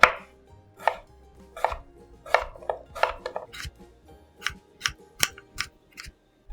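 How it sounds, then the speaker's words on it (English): A knife chops Idaho potatoes into 1-inch cubes on a cutting board in a series of crisp, close knocks, irregular at first, then settling into a steadier rhythm. "I'm gonna cut them in 1-inch squares"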